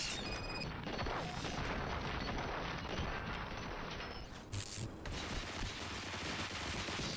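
Sustained bursts of automatic gunfire from RoboCop: Rogue City, dense and loud throughout, with a brief lull and a sharp blast near the middle before the shooting resumes.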